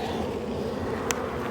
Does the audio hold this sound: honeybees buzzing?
yes